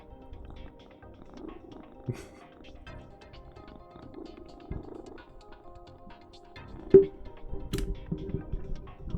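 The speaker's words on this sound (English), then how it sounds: "purring, bit of cat purring ASMR." A cat purrs softly and steadily up close, with a few faint clicks and taps in the background.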